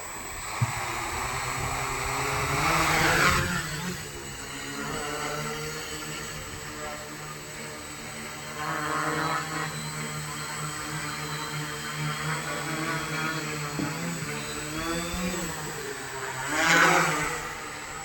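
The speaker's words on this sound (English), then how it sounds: "our drone is hovering automatically on GPS hold mode, and I am not touching the remote." A DIY quadcopter drone hovers on GPS hold, giving a steady whining propeller buzz that swells and fades as it drifts nearer and farther, continuous throughout.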